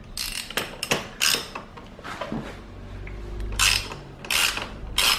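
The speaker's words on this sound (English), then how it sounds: "Then you need to remove the rear shock lower bolt, which is located here." Ratchet turning the tight, Loctited lower rear shock bolt on a KTM motorcycle: several short bursts of close metallic clicking separated by brief pauses and light clunks.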